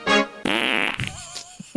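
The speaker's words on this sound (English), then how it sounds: "I don't like it with the fart." A loud, close fart sound effect plays as a buzzy, pitched blat that runs for well over a second, then gives way to a few short murmurs.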